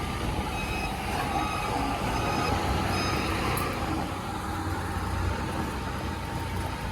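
Heavy machinery, including an excavator, drill rig and crane, works at a construction site, with a continuous engine rumble, clanking, and repeated reversing beeps sounding at a moderate distance.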